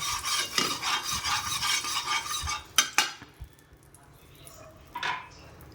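A spatula spreads and stirs egg bhurji in a pan in a room kitchen, making close, loud rhythmic scraping for a few seconds, then a couple of sharp metal knocks and softer sizzle.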